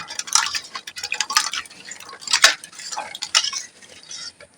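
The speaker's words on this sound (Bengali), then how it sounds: "এবার আমি জল দিয়ে ধুয়ে নেব" Jackfruit seeds being rinsed with water in a bowl, giving irregular wet clatters and rubbing scrapes at close range, with no voices.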